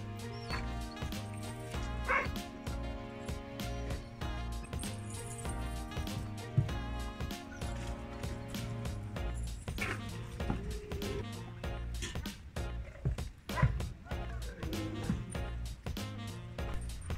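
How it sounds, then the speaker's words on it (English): Huskies yip, whine and bark in rapid, chattering vocal bursts, several dogs close by over a steady musical background, their talkative noises rising and falling throughout. "This is a typical husky thing, right? All these huskies always blah, blah, blah, blah, blah, blah."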